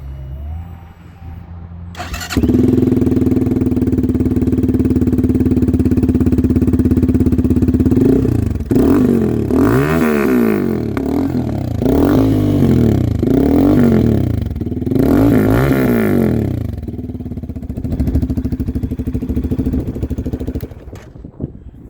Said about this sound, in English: if you guys want to hear what it sounds like now with this new exhaust system